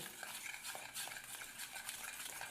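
Chocolate cake batter of eggs, sugar, oil and flour is mixed slowly in a bowl, giving faint, soft scraping and swishing strokes that repeat steadily with light clinks, no voices.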